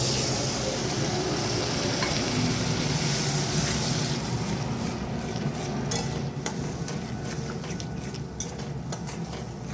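Milk mixed in hot water is poured into a cauliflower, potato and prawn poppy-seed curry in a pan, a loud continuous bubbling and hissing wash that eases slightly midway, with occasional utensil taps.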